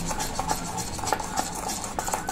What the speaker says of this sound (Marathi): छान फेटून घ्यायचं आपल्याला हे इथे एकजीव करून